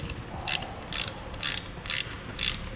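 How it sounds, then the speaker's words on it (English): A hand ratchet tightens bolts on an Air Lift LoadLifter air helper spring bracket on a 2016 GMC Sierra, clicking in five evenly spaced short bursts, close up with no voices. "Alright, now we'll tighten up our bolts."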